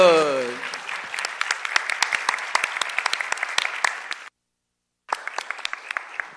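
Audience applause at a live event, loud, dense clapping that runs steadily, cuts out briefly, then resumes.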